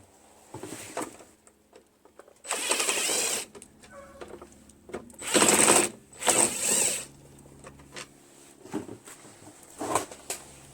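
A loose recoil starter is pulled off a Craftsman self-propelled high-wheel lawn mower with a Briggs & Stratton Quantum 6.75 engine. Several close bursts of rattling, scraping and clicking metal are separated by quieter pauses.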